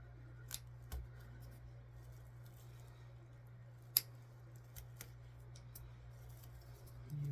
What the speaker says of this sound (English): That's where the little scissors come in place though, because you can get just right underneath there to snip it off without cutting all your tinsel.